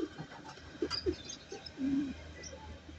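Young racing pigeons coo in soft, low, repeated bursts at close range, with a few faint chirps between calls in a quiet loft setting.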